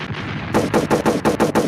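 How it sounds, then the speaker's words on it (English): Rapid bursts of gunfire from a gunshot sound effect, a steady string of about eight loud, evenly spaced shots after a half-second of low noise, like automatic weapon fire. "Gunshots."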